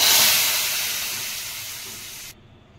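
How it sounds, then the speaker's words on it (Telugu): Hot tadka poured into ajwain rasam with curry leaves and coriander, a loud bright hiss that bursts up at once and slowly fades over about two seconds before cutting off, heard close and alone. "తాలింపు దీంట్లో వేసుకుందామండి"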